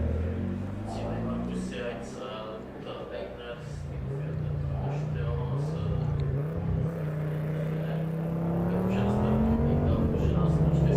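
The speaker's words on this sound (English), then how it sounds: "We got some Quattro noise after all." An Audi 80 Quattro rally car sets off into a snow-season rally stage in Austria, its engine rumbling and rising through revs at a moderate distance while a commentator talks over it.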